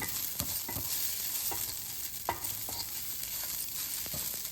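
Flattened rice (aval) for tomato upma is stirred in a pan, with repeated close scraping strokes of a spoon over a continuous soft sizzle, no voices.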